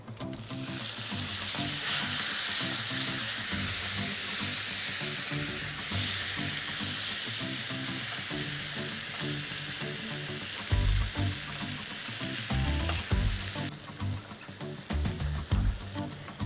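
Mangoes tipped into a hot pan of oil for a Konkani-style mango curry fry with a loud, steady sizzle, growing crackly bursts and stirring scrapes near the end.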